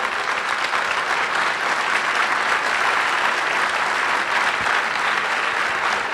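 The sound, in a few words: audience applause in church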